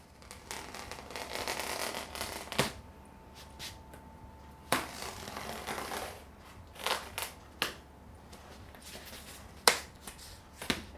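A knife cuts through foam edging for a Viking shield handguard, drawn over a table edge in scratchy slicing strokes broken by several sharp clicks and snaps, close and fairly quiet.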